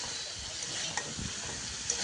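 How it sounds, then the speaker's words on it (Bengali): Potatoes and stalks being stirred with spices in a frying pan: a steady close sizzle and hiss with soft scraping of the spoon, continuous throughout. "এগুলোকে দিয়ে ভালো করে মশলার সাথে নেড়েচেড়ে মিশিয়ে নেবেন"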